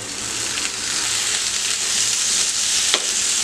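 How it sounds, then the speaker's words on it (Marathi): Tomatoes with onion and garlic frying for a tangy spicy chutney, a loud close hissing sizzle that holds steady throughout with faint stirring scrapes. "फक्त कच्चेपणा जाईपर्यंत त्याला फ्राय करायचं आहे।"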